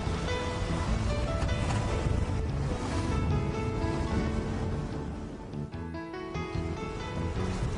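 A catamaran under mainsail alone rushes through choppy water, with steady splashing and hissing spray over a constant rumble of wind buffeting the microphone.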